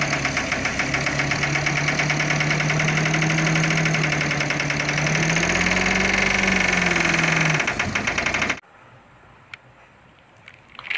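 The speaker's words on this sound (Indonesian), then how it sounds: "Ini ada mobil truk pasir." A sand truck engine runs with a loud, steady droning rumble and a whine that rises and falls, then cuts off abruptly, leaving near silence with a few faint clicks.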